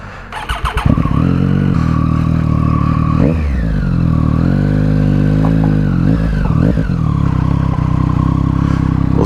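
A warm 2018 Triumph Street Triple R with a new Delkevic exhaust starts with a burst of sharp pops, then holds a loud, close idle and rises into two revving swells that fall back, with no talk.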